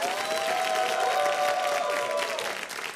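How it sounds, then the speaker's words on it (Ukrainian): A studio audience applauds steadily on a Ukrainian TV game show with military veterans as guests, loud dense clapping that holds for most of the span and fades slightly at the end. "Давайте оплески Курану."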